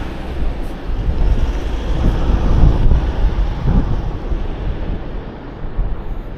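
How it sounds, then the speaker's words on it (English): Gusty wind buffets an outdoor microphone in West Tokyo, a steady low rumble that swells and dips across the whole stretch with no voices. "I'll put a microphone on because I can hear the wind"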